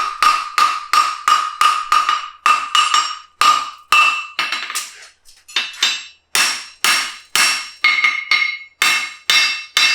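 A hammer cold-forging a horseshoe on an anvil rings out in loud, close, ringing metallic blows struck at a steady rhythm, with a brief gap midway.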